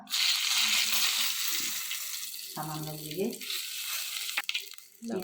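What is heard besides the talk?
garlic paste frying and being stirred in a pan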